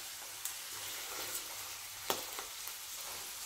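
Sliced mushrooms and chopped garlic sauté with a soft, steady sizzle in a pan, broken by a few light clicks of a utensil mixing them.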